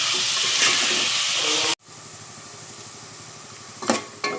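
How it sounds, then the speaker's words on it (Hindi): Onions frying in hot oil for mutton masala, a loud bright sizzle that cuts off abruptly, followed by a quieter low hiss and a couple of stirring scrapes. "प्याज गुलाबी होने तक अच्छी मैं इसे"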